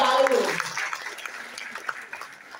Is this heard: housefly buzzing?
no